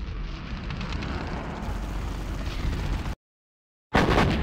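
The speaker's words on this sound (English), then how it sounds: "Particle cannon activated." Particle cannon firing in Command & Conquer Generals Zero Hour, a loud sustained rumbling blast roaring steadily for about three seconds, cutting to silence, then resuming abruptly at full strength.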